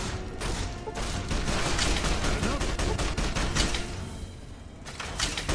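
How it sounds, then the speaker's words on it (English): Rapid gunfire in the game Fallout: New Vegas, a fast run of sharp, loud shots and thuds following one another over about five seconds, with no talking. "let's shoot this guy right in the torso"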